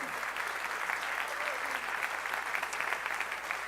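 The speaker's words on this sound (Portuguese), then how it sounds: "Você pode aplaudir ao Senhor?" A congregation at a church celebration service applauds, a full, continuous wash of many hands clapping at an even level throughout, with no one speaking over it.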